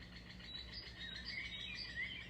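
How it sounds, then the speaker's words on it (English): Birds chirp faintly in the distance, giving short high tweets against a quiet outdoor background with a soft insect-like hum. "Oh, bloody birds."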